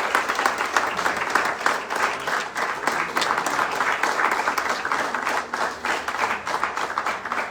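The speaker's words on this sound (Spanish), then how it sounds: "Un aplauso para él" Sustained audience applause at an event marking World ALS Day, dense steady clapping from a crowd holding at an even level throughout with no break.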